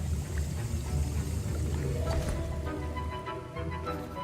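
A potion being stirred in a cauldron in the video game Hogwarts Legacy, a close bubbling, sloshing liquid sound with soft splashes over a low rumbling bed, steady for a few seconds with no talking.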